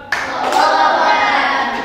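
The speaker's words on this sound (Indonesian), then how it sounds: "Tepuk 4." Seventh-grade students in a classroom clap in unison, a loud, close burst of many hands that rings on briefly rather than falling into four distinctly separated beats.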